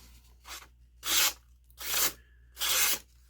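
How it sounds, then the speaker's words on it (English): A knife from a pawnshop being sharpened on a strop, giving four separate rough rasping strokes in a slow, even rhythm, close and clear with no voices. "That one's sharpened and cleaned up"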